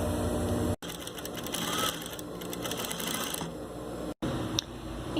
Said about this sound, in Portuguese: agora eu vou passar a costurinha aqui para poder fixar essa partezinha aqui na toalha.